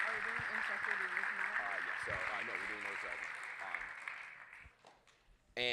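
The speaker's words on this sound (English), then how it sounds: "One more round of applause for our scholarship winners." An audience applauds scholarship winners at a state student awards forum, a steady wash of clapping under a speaking voice that thins out and fades near the end.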